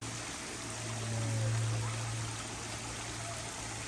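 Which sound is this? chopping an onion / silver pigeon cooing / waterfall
waterfall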